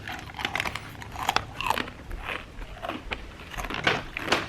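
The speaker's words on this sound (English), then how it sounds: "I'm snacking on these Parmesan crisps with everything seasoning from Target." Parmesan crisps with everything seasoning, a store-bought snack, crunched and chewed close up in bite after bite, with sharp crackly bursts repeating irregularly and no talking.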